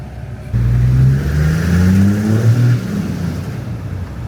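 Toyota 1HZ diesel engine ticking over then revving up for a couple of seconds with rising harmonics before settling back to idle, loud and close with no talk.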